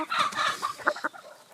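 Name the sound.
American Thai game hen clucking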